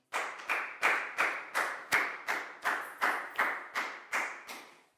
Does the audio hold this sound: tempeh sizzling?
no